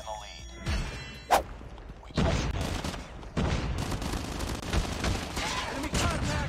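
Gunfire in the mobile shooter Call of Duty Mobile, with a sharp shot followed by bursts of rapid automatic fire and impacts in a busy match, loud and close.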